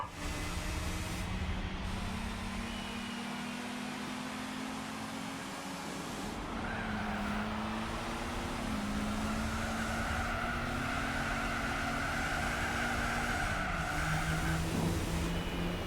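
A race car engine holds full throttle in Gran Turismo 4 at Twin Ring Motegi in Japan, a steady loud drone whose pitch climbs and drops with gear changes, heard alone without any talking.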